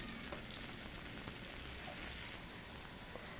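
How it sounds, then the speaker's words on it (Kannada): Onions and tomatoes fry in a pan for tomato gojju, a faint, even crackling sizzle that holds steady without pauses or voices. "ಈರುಳ್ಳಿ ಚೆನ್ನಾಗಿ ಫ್ರೈ ಆದ ನಂತರ ಟೊಮೊಟೊ ಕೂಡ ಹಾಕಿ ಚೆನ್ನಾಗಿ ಫ್ರೈ ಮಾಡ್ಕೊತೀನಿ"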